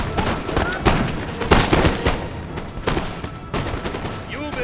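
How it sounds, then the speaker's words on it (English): Infantry in Napoleon Total War fire a volley of muskets, heard as a close, ragged run of overlapping gunshots and booms that keeps cracking without a pause. "And then a solid volley into this foot guard."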